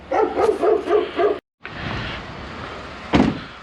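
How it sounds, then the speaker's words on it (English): A Pomeranian gives a quick run of about four close, loud barks. A brief pause follows, then a rustling stretch ending in one more sharp yip. "and a Pomeranian. Dog."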